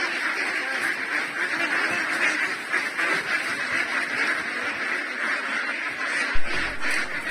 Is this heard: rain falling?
no